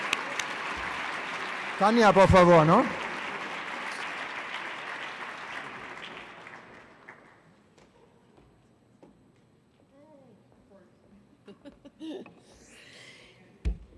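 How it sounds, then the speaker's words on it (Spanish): An audience at a graduation certificate ceremony in Madrid applauds, steady clapping that fades over several seconds. Someone speaks briefly over the start, and quiet talk follows afterward. "Un aplauso para estos jóvenes que les vamos a entregar los certificados."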